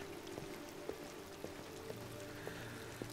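Rain falling in Detroit: Become Human, a faint steady hiss with soft, sparse drip ticks spaced about half a second apart.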